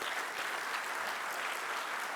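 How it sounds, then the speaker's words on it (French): Dense, steady applause from a forum audience honouring the first lady of Angola at an international peace and security conference in Dakar, a continuous even wash of clapping with no pauses. "Je vous demanderai de l'applaudir."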